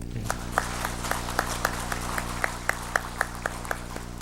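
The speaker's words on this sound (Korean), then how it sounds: "우리 박수 한번." A church congregation at a Sunday worship service claps along in a steady, evenly spaced rhythm, each beat sharp and regular over a sustained low hum, with no talking.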